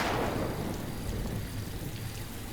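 Steady rain pours down on a stormy night, a dense, even hiss with low rumbling underneath, heard alone with no talking.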